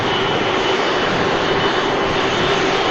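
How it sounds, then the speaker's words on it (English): Engines of an Airbus A330-300 airliner at Manchester Airport, a loud, steady roar with a broad rushing hiss and a faint tonal whine, continuous and close with no voices. "That's going to give way to the huge Airbus A330 300."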